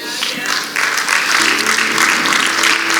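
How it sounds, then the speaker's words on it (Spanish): A congregation at a live church service breaks into applause for the king, the clapping swelling quickly from a quieter start into a full, sustained burst, with faint voices and a held musical tone underneath. "¿Alguien aplaude al rey?"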